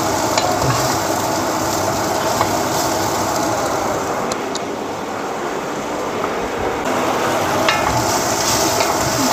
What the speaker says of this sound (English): And I will stir this guys to make it caramelized onion